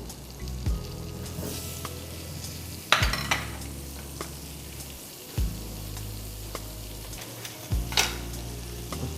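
Butter melting and frying in a pan, a steady low sizzle running throughout with a few sharper clinks and scrapes of stirring, close and fairly quiet.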